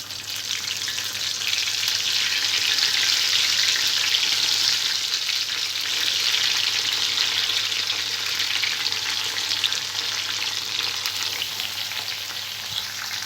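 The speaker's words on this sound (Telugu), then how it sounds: "తాలింపు ఫ్రై అయిన తర్వాత స్టఫ్ చేసుకున్న వంకాయలు వేసుకోవాలి." Stuffed eggplants frying in oil with a tempering of seeds, dried red chillies and curry leaves, giving a steady, close, dense sizzle that holds at an even level throughout, with no voices.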